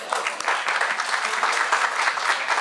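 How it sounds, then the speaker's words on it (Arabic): Audience applause for the Setif group at a Schneider Electric national event, steady dense clapping throughout with a few voices mixed in. "اتفضل صفقوا لنا السطيف"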